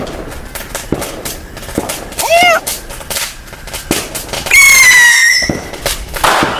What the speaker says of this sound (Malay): Abang Long pasang mercun roket